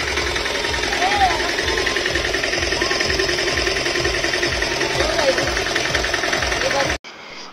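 An auto rickshaw engine runs throughout a ride with a steady, rhythmic puttering drone and faint voices underneath, then cuts off abruptly near the end.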